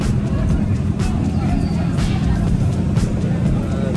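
A BMW car passes at a street festival, its engine noise blended into dense crowd chatter and talk throughout, with no distinct pass-by swell standing out from the steady loud background.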